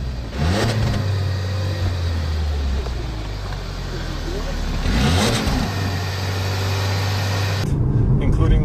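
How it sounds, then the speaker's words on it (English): A 2015 Lincoln MKC's engine pulls hard at full throttle, a steady mid-range drone rising under the cabin hum, with someone talking over it throughout. "the engine sounds, it's a little bit quiet. Yep, that's floored."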